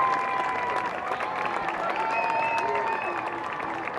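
Fans at a high school football game between George Walton and Walker applaud a departing senior player, a steady crowd clapping and cheering wash heard from a distance while an announcer talks over it.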